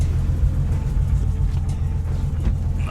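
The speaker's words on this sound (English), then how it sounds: "trying to get the car out of the driveway right now" A bagged BMW E30 pulls slowly out of a driveway, its engine giving a steady, close low rumble with no talk over it.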